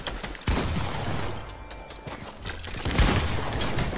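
Gunfire in a first-person shooter match, a busy burst of shots and impacts running continuously for several seconds, with a sharp loud hit near the start and another near the end.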